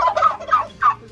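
Young turkey poults in a small enclosure under a red heat lamp give a quick series of four close, repeated chirping calls in a steady rhythm.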